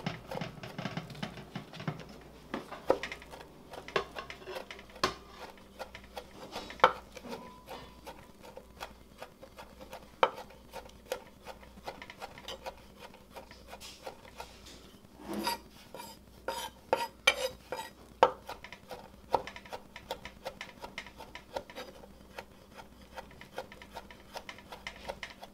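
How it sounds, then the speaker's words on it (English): A knife mincing rosemary on a cutting board, with quick, irregular rapid chops and taps, some in dense bursts, close and fairly quiet against a faint background hum. "basically I'm just gonna mince it pretty fine"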